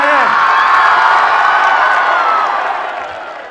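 A large outdoor PTI political rally crowd in Haripur cheering and shouting in a sustained, loud, dense roar that fades slightly toward the end.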